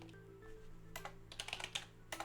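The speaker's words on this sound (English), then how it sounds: "I'm trying typing the word brown" Fingers tap on a computer keyboard while playing the puzzle game Lingo, a few scattered keystrokes followed by a quicker cluster of clicks, close and fairly quiet, with no talking.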